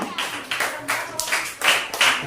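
Classroom participants give a round of applause after a group presentation, a few loose, uneven bursts of clapping from a small nearby group, with a voice speaking briefly among them.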